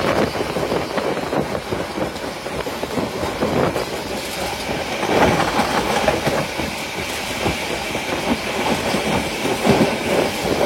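The Titas Commuter train runs on rails at about 60–70 km/h, a loud, steady rumble with clickety-clack wheel beats heard from on board.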